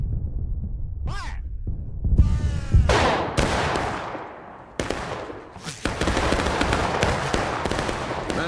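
Confederate Civil War reenactors at Pry House fire a musket volley: a sharp crack, then ragged repeated shots that keep booming outdoors, with voices shouting commands between them.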